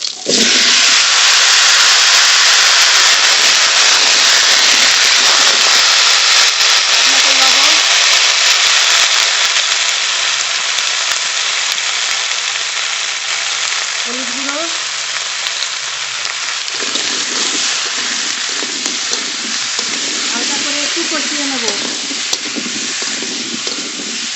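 Cut pumpkin pieces hitting a hot oiled pan, raising a loud, steady, close sizzle that stays dense and continuous throughout, with faint faint clinks and stirring underneath.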